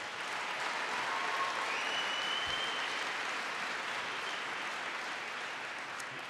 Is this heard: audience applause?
yes